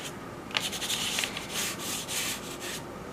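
Navy blue pastel chalk skimmed across paper, a soft dry rubbing and scratching in short strokes, close and quiet with no voices.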